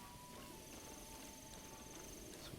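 Horses' hooves clip-clop steadily at a distance in the video game The Legend of Zelda: Breath of the Wild, a faint continuous walking rhythm set against low game ambience, with no talk.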